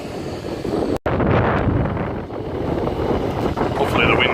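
Wind outdoors at crop fields on a rainy day buffets the microphone with a loud, steady low rumble and gusty swells, briefly cutting out once.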